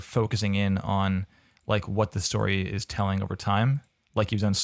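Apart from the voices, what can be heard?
No everyday noises stand out.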